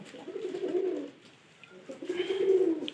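Pigeons coo in two low, throaty bursts separated by a short lull, close and clear with no talking.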